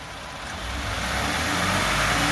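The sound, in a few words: 2018 Ford F150 2.7 EcoBoost engine revving with K&N intake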